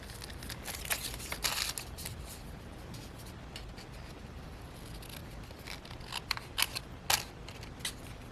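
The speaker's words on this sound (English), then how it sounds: "So I'm going to go ahead and cut that." Scissors snip through paper while a junk journal envelope file folder is trimmed, a few close crisp cuts in short bursts with quiet handling noise between them.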